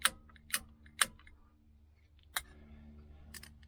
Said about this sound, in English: I don't know if you can hear that clicking. That's from the horn there.